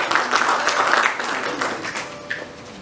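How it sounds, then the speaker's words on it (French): An audience claps at a foundation's social challenge launch event, moderately loud and continuous, with some individual claps standing out near the end. "Je pense que nous pouvons applaudir à l'UNASI."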